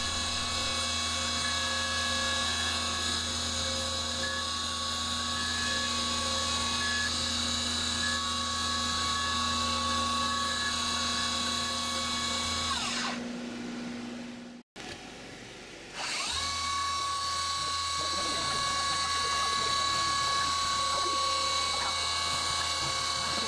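A CNC mill cuts a 3D wood plaque with a tiny 0.03 end mill, a steady high whine and buzz that briefly winds down to near silence and then spins back up.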